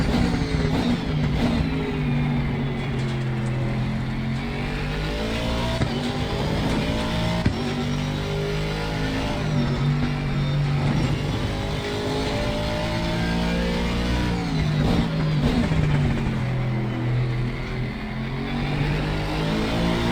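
An Aston Martin V8 GT3 race car engine in Assetto Corsa Competizione at Kyalami, loud and continuous, with rising revs, repeated gear shifts and sweeping pitch changes under acceleration and braking.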